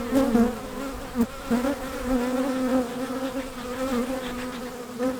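Honeybees in a weak hive that has been queenless for forty days, a dense steady buzzing hum from many bees, close and continuous with small swells in loudness.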